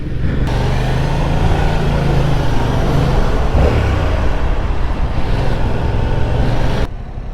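Yamaha MT-07 motorcycle pulling away hard from a stop light, a loud, steady engine drone with a low throaty rumble that holds strong through the run before cutting off near the end.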